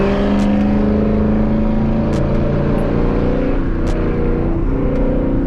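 A catless Dodge Challenger exhaust drones loudly from inside the car during a highway pull with the windows down, a steady deep harmonic roar with pitch slowly rising and a few faint clicks.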